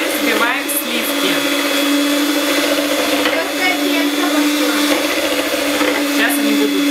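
An electric hand mixer whips cream for homemade ice cream, a loud, steady whirring drone that hums on without pause. Faint voices come through underneath.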